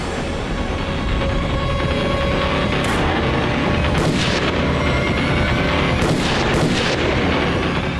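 Gunshots ring out in a crime drama standoff as several loud, sharp cracks over a dense, roaring background, spaced a second or so apart, heard close without talk.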